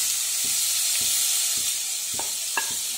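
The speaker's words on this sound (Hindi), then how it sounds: "हम डालेंगे महीन कटा हुआ प्याज और इसे" Chopped onion with ginger and green chili frying in hot oil for a potato sandwich, a constant loud sizzle with regular scraping stirs about every half second.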